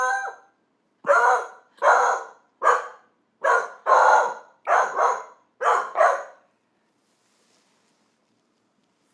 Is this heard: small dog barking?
yes